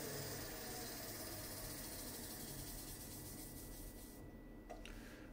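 A scraper smoothing the surface of a wood-turned bowl on a lathe, a continuous close rasping rub over a steady motor hum, fading slightly at the end.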